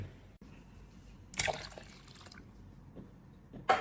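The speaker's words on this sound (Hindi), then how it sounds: "अंदाज से 2 जग की जरी पानी डाल दिया" Water from a jug splashes and sloshes into paneer, coming as a short close pour midway and then a second brief splash at the end, with quiet dripping between.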